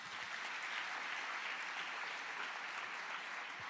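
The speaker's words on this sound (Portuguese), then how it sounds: "Você pode dar um aplauso a Jesus?" A church congregation applauding during a sermon, a steady, dense wash of clapping that holds evenly throughout at moderate distance, with no voices standing out.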